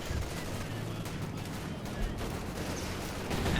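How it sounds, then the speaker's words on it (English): Gunfire and artillery from a Company of Heroes 2 battle rumble continuously in a dense, steady wash of shots and distant booms, with a slight swell toward the end. "we got artillery called in by the Major"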